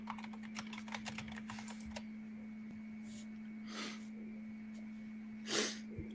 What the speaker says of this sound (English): I went to start typing